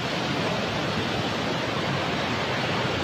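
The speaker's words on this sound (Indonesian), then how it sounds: "Ini adalah air belerang ya teman-teman ya." Sulphur spring water pours from a spout at a hot spring near Baturraden, Purwokerto, Central Java, making a loud, steady rushing splash close by with no pauses.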